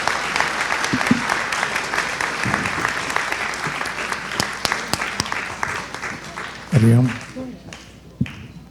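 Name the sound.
applause for graduates on stage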